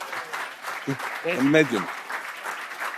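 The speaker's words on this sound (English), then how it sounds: "So you did applause so perfectly." Audience applause at a PowerShell conference talk, a soft, continuous patter of clapping running under a brief spoken word from the presenter.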